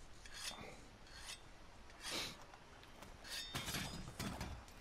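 A weapon is sharpened with a whetstone in Monster Hunter World, heard as about six separate rasping scrapes in an uneven rhythm, close and fairly quiet, with no speech.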